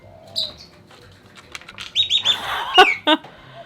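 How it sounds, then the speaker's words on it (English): Several harsh bird squawks and chirps burst out in quick succession over a steady outdoor background as birds fight, growing louder and busier toward the end. "I think the birds are having a fight"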